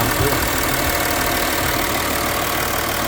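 A 2011 Audi A8 with about 357,000 km, running during a used car inspection, produces a steady, loud, continuous engine drone with dense broadband noise and no break across the whole stretch.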